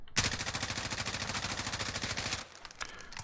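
Rapid automatic gunfire from Call of Duty Warzone in Verdansk, a fast, even burst of loud shots lasting about two seconds, then a few scattered single shots trailing off.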